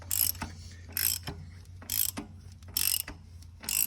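A ratchet wrench clicks in short repeated bursts, about four pulls, as a harmonic balancer bolt on a Hemi engine is tightened, crisp and close with brief pauses between strokes.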